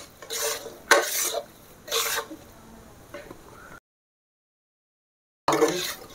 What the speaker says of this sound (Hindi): हम इसको धीरे धीरे एक बार इन्हें डालेंगे इसको ऐड करेंगे और इसको मिलाएंगे डालते जाएंगे और मिलाते जाएंगे